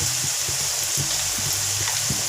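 Coarse ginger-garlic paste fries in oil in a kadai, a dense steady sizzle with soft rhythmic stirring scrapes, close and unaccompanied.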